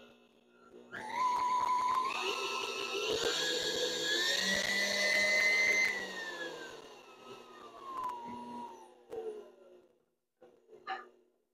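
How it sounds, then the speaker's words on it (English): A KitchenAid stand mixer motor whines as it steps up through its speed settings, the pitch climbing then falling as it winds down, close and alone, ending with a few clicks. "So there's a mixer. I'm going to run it through its different settings."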